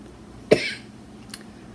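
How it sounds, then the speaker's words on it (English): A single sharp cough, close and fairly loud, followed by a faint softer throat sound a moment later in an otherwise quiet room. "I haven't been coughing all morning."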